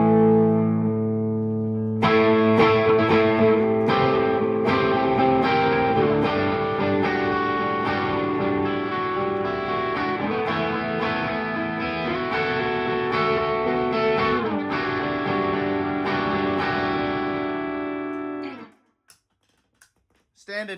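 Electric guitar through a Nordland overdrive pedal modded by Through Tone Effects, a sustained, gritty driven chord passage with repeated strums ringing for most of the span before cutting off abruptly near the end.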